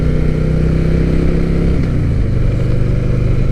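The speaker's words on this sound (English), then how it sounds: "Got the Softail going, and doesn't get much better than that." Harley-Davidson Softail motorcycle riding along, its engine a loud, steady close drone throughout with a slight shift in pitch partway through.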